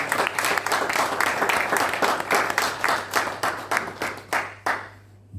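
A church congregation applauds and cheers together, dense rhythmic clapping sustained throughout at close range, loosening into scattered claps near the end, with a low steady hum underneath.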